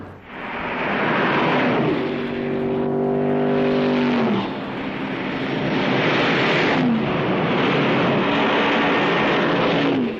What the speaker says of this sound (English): let's see it in the only way that an engine should be seen, in action